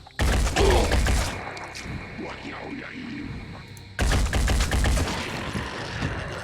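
Gunfire in the Phoenix Point tactical game, Year One Edition: two loud, close bursts of shots, each a dense crackling volley lasting about a second or more, separated by a quieter stretch of rumble and debris.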